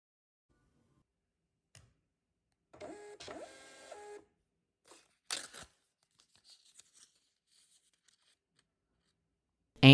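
A MUNBYN 130b thermal printer set for 2x2 stickers feeds out a label with a short, steady whirring run, then a few light clicks and a tearing snap, quiet and alone with no talk.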